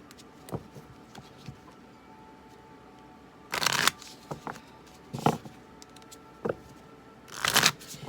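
Love oracle tarot cards shuffled by hand in quiet, close bursts of riffling and flicking, three longer shuffles among scattered light taps and card snaps.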